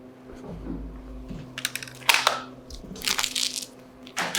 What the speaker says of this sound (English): I'm gonna go ahead and tape that joint